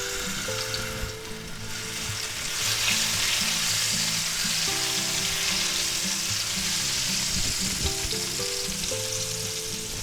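Minced garlic sizzles and fries in hot oil in a pan on medium-high heat, a steady close crackle that runs without pause, and no one speaks.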